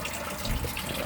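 Water pours steadily into a crayfish tank, a continuous close splashing fill with a low gushing rumble, no voices.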